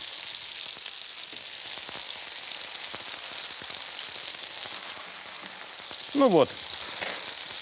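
Spicy Burmese-style meatballs fry in a pan with a steady, close sizzle and crackle throughout, and a short voice cuts in near the end.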